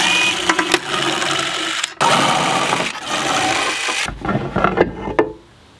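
A power driver backs out bolts from the top sled of a benchtop jointer, giving loud, close bursts of buzzing motor whir separated by short pauses, the last burst trailing off into silence.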